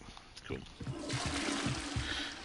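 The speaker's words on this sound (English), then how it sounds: "Flush the toilet for some reason." Toilet flushing in Hogwarts Legacy: a rushing, gurgling swell of water that builds after a second and keeps running, with a voice talking over it.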